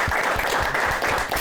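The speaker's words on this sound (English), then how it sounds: "So, a round of applause." Audience applause after a host introduces a guest on an introductory episode, a dense steady patter of many hands clapping at close range, continuous through the moment with no break.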